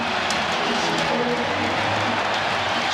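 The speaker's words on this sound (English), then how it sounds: "Standing ovation from this crowd at the United Center." Crowd at the United Center rising for a standing ovation during the 1996 NBA Finals game between Seattle and Chicago, a dense, steady roar of applause and cheering filling the arena without a break.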